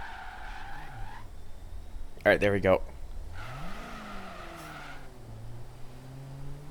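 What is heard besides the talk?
car reversing and turning around, tires skidding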